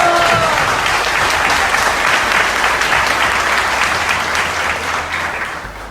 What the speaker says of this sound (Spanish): Muy bien, aplauso para él.